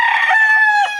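A backyard rooster crows once, close and loud, in a sustained, slightly wavering call that drops off sharply at the end.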